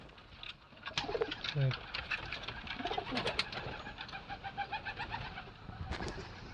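Several pigeons coo softly in a steady rhythm, layered with faint fluttering and distant chatter, from a loft of competition pigeons.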